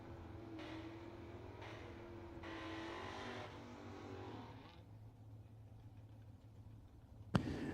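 Race car at a drag racing event rumbling along the track, a steady engine drone that fades after several seconds, ending with a sharp click.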